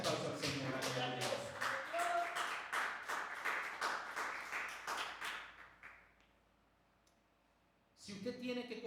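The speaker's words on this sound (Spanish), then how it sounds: "Les aplauso al Señor" A church congregation claps rhythmically for several seconds under faint voices, then the clapping fades to near silence before voices and sound return.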